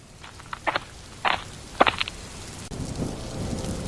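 Heavy rain pours steadily as the backdrop, broken by several short sharp bursts and a low rumbling swell near the end suggesting thunder, with no talking.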